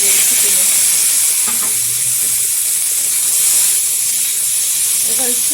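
Boiled broccoli and cauliflower sizzle loudly in hot mustard oil with a little turmeric, a dense, steady frying hiss close up that carries on throughout with occasional faint clinks.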